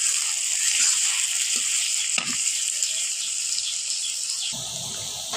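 Onions fry in oil in a wok, making a bright, continuous sizzle close by, with a few brief stirring scrapes breaking through the hiss.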